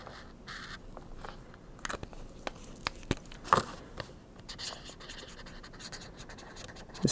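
A Tombow pen scratches across thin, regular copy paper in short, uneven strokes, faint and close, with small scratchy bursts and no talking.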